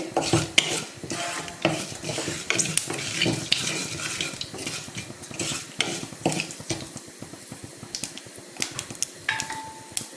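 Small onions, garlic and curry leaves frying in hot oil for a Chettinad brinjal curry, with continuous sizzling and crackling, frequent scraping and clinking of a spoon stirring against the pan, close and fairly loud, no voices.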